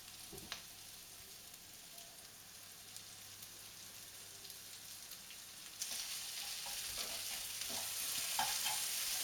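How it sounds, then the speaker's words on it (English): Onions for fried rice fry quietly in a pan, giving a soft continuous sizzle with occasional scrapes as they are broken up and stirred, growing a little louder toward the end. "the pieces will fall apart as the onion gets cooked"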